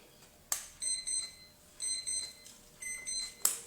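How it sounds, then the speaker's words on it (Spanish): An alarm clock rings in short bursts of high electronic beeps, a steady repeating pattern that sounds fairly faint in a quiet room. "Ya sonó la alarma."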